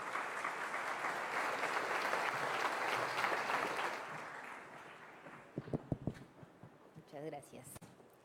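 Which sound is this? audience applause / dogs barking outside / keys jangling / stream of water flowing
audience applause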